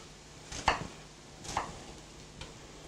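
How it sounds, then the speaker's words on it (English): A knife chops an onion into small pieces on a board: three quiet, crisp cuts spaced about a second apart in a calm kitchen. "Then I'll take half of the onion and cut them into small pieces"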